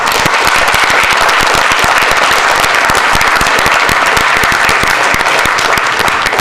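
Loud, dense audience applause fills a town selectmen meeting, a continuous crackling wash of many hands clapping at once, close and sustained throughout.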